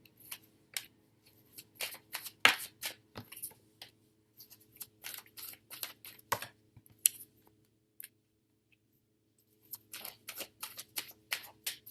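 Tarot cards handled and shuffled close up: a long run of quiet, crisp card flicks and slides in irregular bursts, with a brief pause midway before the rapid flicking resumes.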